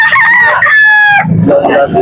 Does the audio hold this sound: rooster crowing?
yes